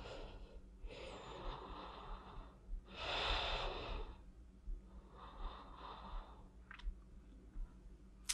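Slow, deep breaths taken during a full-body mat workout, drawn in and out in a few long, soft swells with short gaps between them, close and quiet with no talking.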